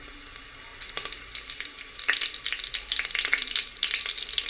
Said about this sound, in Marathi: तर आता तेल गरम झालेलं आहे. तर आपण याच्यामध्ये थोडंसं जिरे टाकूया